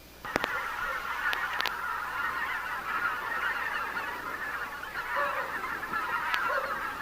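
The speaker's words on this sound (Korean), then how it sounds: "기러기가 그냥 날면서 그냥 날지 않는다는 거예요. 소리를 낸다는 거예요." A flock of geese honking repeatedly, overlapping calls in an irregular stream, fairly loud and clear with no voices.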